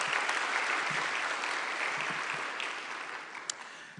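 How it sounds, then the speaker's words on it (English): An audience at a university welcome day and oath-taking ceremony gives the planning committee a round of applause, a dense, steady clapping that slowly fades toward the end. "Please give them a round of applause."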